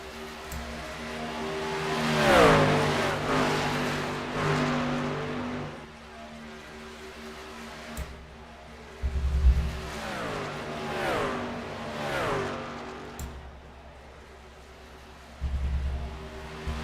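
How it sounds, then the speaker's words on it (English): Race cars in a sim racing video game, a Napa Chevrolet among them with laps winding down, roar past one after another, engines rising and falling in pitch as they sweep by, with brief bursts of low rumble between passes and no talking. "Elliott Condra continuing to fall back in that Napa Chevrolet"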